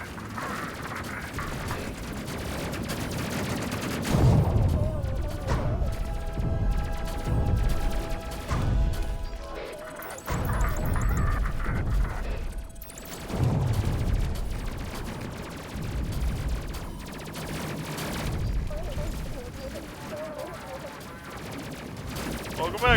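Bomber guns firing in Space Crew, bursts of rapid gunfire and heavy booms in repeated volleys over a dense game soundscape, with a voice talking at times.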